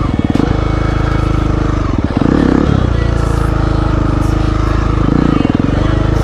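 Small Romet Ogar 49 cc moped engine running steadily while being ridden, a continuous buzzing drone with brief throttle dips and surges, close up and loud throughout.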